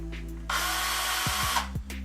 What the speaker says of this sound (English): a drill. Now this is an essential tool for DIYers